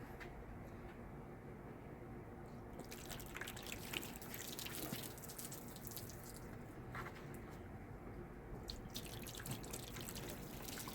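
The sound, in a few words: water running over a ceramic-coated Jeep Sahara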